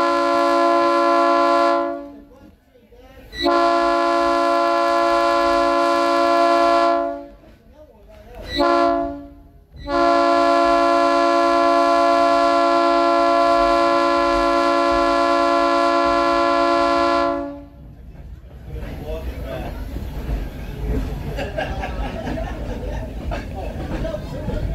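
Locomotive horn at the Monticello Railroad Museum, sounded as a train shoves from Monticello: several long, loud, steady blasts with short gaps, then rumbling rail and wheel noise with faint talk underneath.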